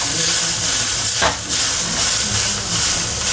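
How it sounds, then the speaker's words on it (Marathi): Onion and tomato frying in a pan for a chicken masala give a steady, loud sizzling hiss, with a brief stirring scrape partway through and no voices. "हा कांदा चांगला टॅमॅटो चांगला मऊपर्यंत व्यवस्थित भाजून घेऊया"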